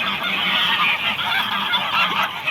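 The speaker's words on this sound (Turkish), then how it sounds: "Ama kazlar tabi çok baskın." A flock of geese honking continuously, loud and close, with overlapping calls forming a dense, steady chorus.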